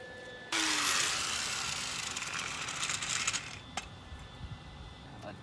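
Hand tin snips cutting scrap sheet metal for rust repair on a white box Chevy: an abrupt, bright metallic cutting rasp that starts suddenly and crunches on for about three seconds, then sharp clicks and faint noise.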